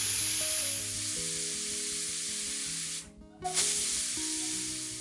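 A pressure cooker of chicken soup on a medium gas flame lets out a steady, loud hiss of escaping steam over a sustained whistling tone, with a brief drop and a sputtering surge near the end.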